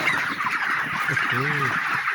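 Large Kaji chickens cluck and call close by on a poultry farm, with a short honking squawk standing out over a busy, noisy barnyard background.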